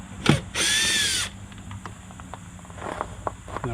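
A cordless power drill backs a screw out of a trim piece on a Kia Sorento trunk, one short whirring burst near the start, then quiet clicks and handling noises.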